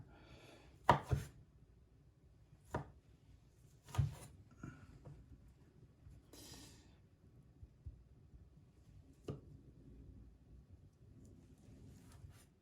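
A knife cuts through smoked tempeh on a board with a few distinct, fairly quiet chops spaced several seconds apart over a faint background, no talking.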